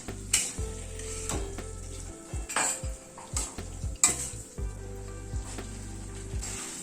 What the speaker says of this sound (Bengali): সেটা দিয়ে ছোলেটাকে আবার একটুখানি কষিয়ে নিচ্ছি